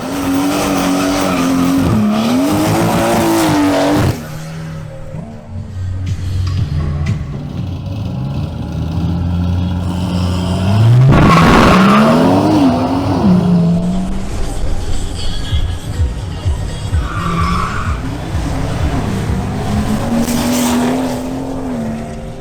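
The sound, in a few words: BMW cars drag racing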